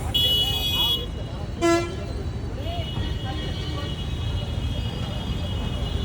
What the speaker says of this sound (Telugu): So much traffic.